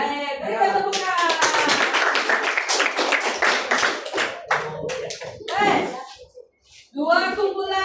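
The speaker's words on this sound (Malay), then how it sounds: "berikan tepukan" A classroom of students clapping together on their teacher's request, dense rapid hand claps in a burst lasting several seconds, with a teacher's voice speaking before and after.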